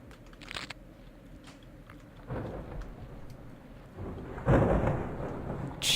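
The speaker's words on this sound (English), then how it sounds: "that lightning was struck like right over there" Rolling thunder from a lightning strike in the video game Dread Delusion, set in a mushroom forest, rumbling in several swells with a loud close crack near the end, amid rain-like ambience and no talk.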